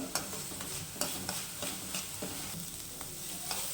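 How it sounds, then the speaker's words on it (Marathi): Onions with salt are stir-fried until reddish in a pan, a fairly quiet, steady sizzle punctuated by regular spatula scrapes and taps about every half second, heard up close with nobody speaking. "त्याच्यामध्ये आपण मीठ टाकतोय आणि त्याला व्यवस्थित परतून घ्यायचं आहे परत लालसर होईपर्यंत"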